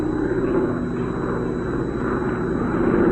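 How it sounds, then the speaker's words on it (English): Airplane in a 1949 radio drama sound effect, a steady low droning roar that holds at an even level throughout, with no voices over it. "Helen, it's just an airplane."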